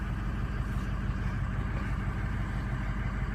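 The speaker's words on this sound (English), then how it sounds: "it's idling really good right now" A truck engine idles smoothly at steady low revs, a continuous even rumble heard fairly close with no talking over it.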